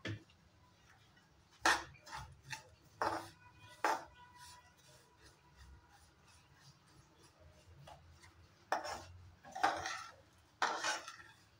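Utensil scraping and clinking against a pan while coconut powder, semai vermicelli and suji semolina are stirred and roasted, in short irregular bursts of metallic scrapes separated by quieter gaps, close and fairly faint.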